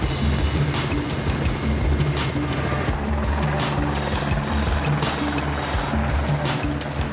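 A helicopter's rotor drones steadily and loudly throughout, with a low pulsing thrum and broad wind-like noise.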